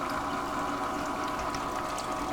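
Water churns steadily in the trap of a GOLDROP gold recovery unit fed at under a gallon a minute, a constant close rushing swirl with no break or change across the whole stretch.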